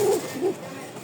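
High-flying Giribaz pigeons cooing, two soft low coos close by in quick succession, with faint room noise.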